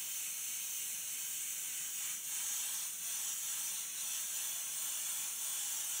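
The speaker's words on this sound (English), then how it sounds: "Notice as I spray over the black, it's really not affecting the black at all." Airbrush spraying paint onto a practice ship painting, giving a steady, close airy hiss that runs continuously with slight pulses in strength.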